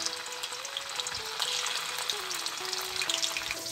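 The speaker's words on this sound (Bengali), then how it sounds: "এবার তেল গরম হয়েছে, আমি কিউব করে কেটে রাখা পনির দিয়ে দেবো কড়ায়।" Paneer cubes fry in hot oil in a wok with a steady, close, soft sizzle and crackle that runs on without a break.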